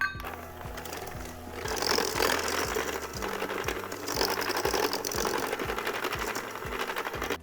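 A stand mixer creams butter and sugar for Greek butter cookies, koulourakia: a loud, continuous mechanical whir with steady rhythmic knocking that runs the whole time, with no talking over it.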